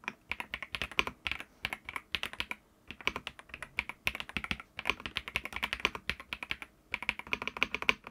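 Typing on an Ajazz AK820 Pro mechanical keyboard with Flying Fish switches gives rapid, crisp clacks in quick uneven bursts with brief pauses, close and clear and with no voice over it.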